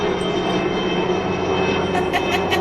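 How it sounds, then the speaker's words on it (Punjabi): A steady, broad engine roar of an airplane passing overhead, continuous and fairly loud throughout, with a few brief higher sounds near the end. "ਜਹਾਜ਼ ਵੀ ਆ ਗਿਆ"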